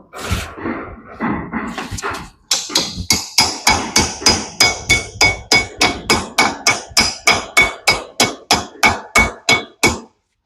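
A hammer strikes metal in a steady run of about twenty sharp, ringing blows, driving a part into a fertiliser spreader axle in a workshop, close and loud, after a short stretch of scraping and handling noise.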